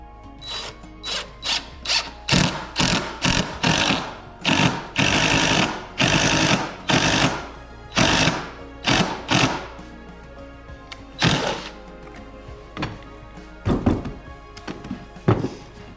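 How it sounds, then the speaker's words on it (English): A power drill bores a series of holes into wooden porch railing with tape on the bit setting the depth, giving repeated short, loud whirring bursts separated by brief pauses, close by and with no talk. "The tape is just simply to set the depth so each of the holes that they drill are the"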